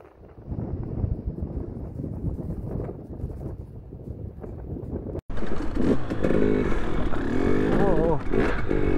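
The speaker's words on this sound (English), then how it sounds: "It is windy out here" Strong wind gusting across a snowy mountain trail during a dirt bike ride on studded tires in fresh powder, buffeting the microphone loudly and continuously, with a motorcycle engine and a rider's voice mixed in.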